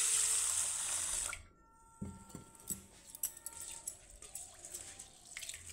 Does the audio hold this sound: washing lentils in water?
yes